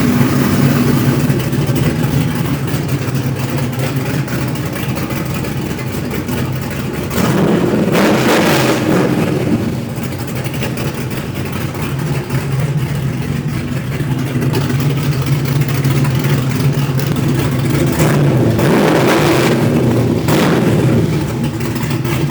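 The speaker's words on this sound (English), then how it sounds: "LSX block, full forged. I'm a big believer in overbuilding, so I can just beat on it. I'll give her some gas here." A fully forged LSX V8 in a 1970 Dodge Charger idles loudly nearby, then gets two strong blips of throttle that surge and fall back, with a steady engine rumble throughout and no talking.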